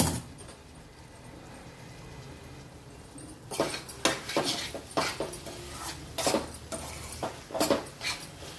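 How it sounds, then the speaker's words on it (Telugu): An ivy gourd fry is stirred in a pan, with a quiet stretch followed by repeated close scraping and clinking strokes of a spoon against the pan. No voices are heard. "ఇవి మెత్తబడాలి అట్లాగే ఫ్రై కావాలి మనం చేసేది ఏముండదు ఇట్లా కలబెట్టుకుంటూ అయిపోతుంది"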